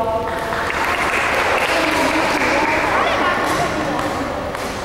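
A crowd claps steadily and loudly throughout at a sixth grade awards ceremony, a dense wash of applause that eases slightly toward the end.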